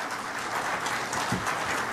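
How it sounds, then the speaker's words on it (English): Applause from a conference audience at a healthcare summit in India, a steady wash of clapping filling the whole moment, moderately loud and continuous without talk. "I think Dr. Sharma deserves a huge heartfelt round of applause for"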